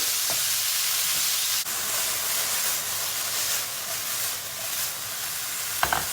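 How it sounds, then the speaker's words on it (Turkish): Chicken and carrots sizzle steadily in a hot pan over high heat, a loud continuous hiss with a few scraping stirs and clinks of a utensil. "Havuçlarla beraber tavukları kavuruyorum"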